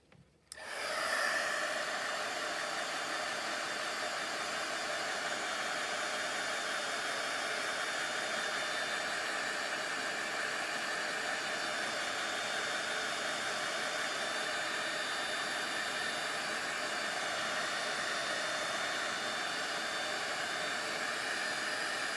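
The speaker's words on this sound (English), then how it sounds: "Okay, heat gun one more time." A heat gun blowing hot air to soften material, switching on abruptly and then holding a loud, steady, even roar for the rest of the time, close by and alone.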